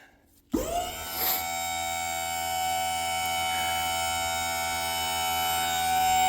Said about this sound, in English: The pump works pretty good. I'll lift it up here for you.